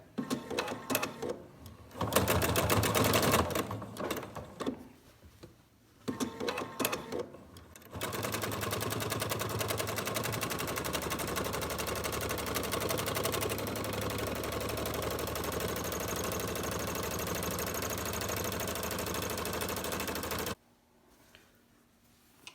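A sewing machine stitches quilt top pieces, starting in a few short loud bursts with pauses, then running in one long steady stretch of rapid mechanical whirring before stopping; no one talks.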